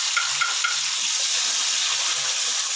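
Garlic, onion and tomato sauté in oil in a pan, giving a loud, steady, close hiss of frying with faint scraping of a small wooden ladle underneath; no voices.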